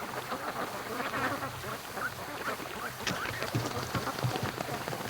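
Free-range ducks at a lake, with scattered quacks and soft bird calls over a steady outdoor wash of water or light rain, fairly faint and continuous.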